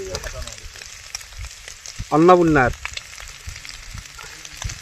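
Onions sizzle in oil in a pan while pork is being cooked, a steady crackling fry running throughout, with a brief spoken word near the middle.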